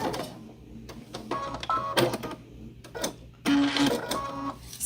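Sewing machine stitching fabric for an orange peel applique quilt, running in short intermittent bursts with pauses and small clicks as it overlaps a couple of stitches at the starting point.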